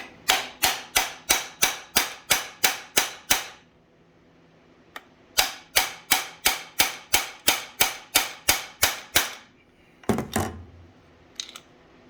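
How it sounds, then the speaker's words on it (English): Hammer whacking the crankcase of a Jonsered 630 chainsaw to split it: two runs of sharp, evenly spaced metallic blows, about ten strikes each, separated by a pause, then a clunk and a faint knock at the end, close and loud. "I'm going to hold this side of the case and I'm going to whack it"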